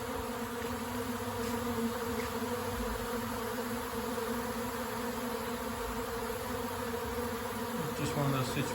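Steady buzzing from many honey bees clustered outside a hive, a continuous low drone with faint background noise and a brief disturbance near the end.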